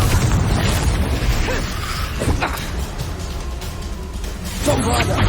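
A Confringo fire spell detonating in Hogwarts Legacy amid dense, continuous booming and crackling combat effects, loud throughout with a swelling burst near the end.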